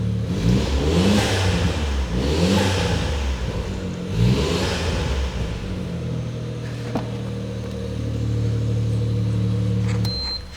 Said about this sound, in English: The exhaust is not too loud at all. It's not even drony.